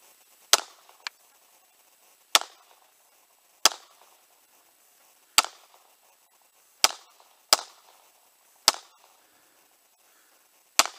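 A gun is fired left-handed outdoors, with sharp isolated reports spaced a second or two apart, about eight shots over eleven seconds, distinct against a quiet background.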